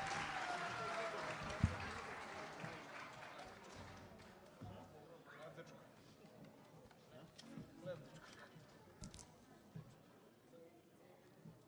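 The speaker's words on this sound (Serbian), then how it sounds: "Molim jedan veliki aplauz za njega." Audience applause at a Šumadija folk gathering, greeting a frula player about to perform a kolo. The clapping starts dense and loud, then thins and fades into scattered claps and crowd murmur.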